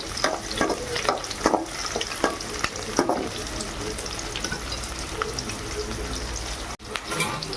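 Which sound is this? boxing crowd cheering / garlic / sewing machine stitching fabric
garlic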